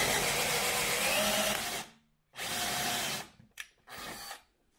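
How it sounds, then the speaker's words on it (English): A power drill on the drill setting drives screws while fitting a side roof ladder to a 2020 Land Rover Defender, whirring loudly in three bursts, the first long and steady, then two shorter runs with a brief click between. "you need it on the drill setting"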